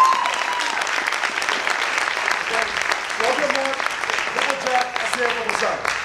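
Audience applause at a Komedia Korsou comedy show, steady dense clapping throughout with voices and whoops mixed in over it.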